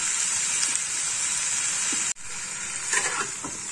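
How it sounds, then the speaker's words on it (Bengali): Loti stalks, shrimp and chopped tomato fry in a pan with a steady bright sizzle and hiss, broken by a brief stir-like break midway before the frying resumes. "ভালো করে একটু ভেজে নেবো যাতে টমেটোটা নরম হয়ে যায়।"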